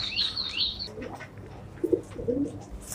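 A racing pigeon of the Matrus type, kept in a cage, gives a few soft coos and brief chirps at close range, with a short flutter of high calls at the start over quiet room noise.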